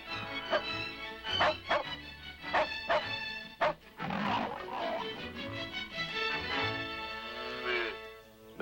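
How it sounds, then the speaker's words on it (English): A Shetland sheepdog barks and yips repeatedly while herding much larger bison on Catalina Island, its sharp barks close and frequent over a steady outdoor background. "The Shelty couldn't resist his guard dog instinct for herding, even though the buffalo outweighed him about 100 to 1."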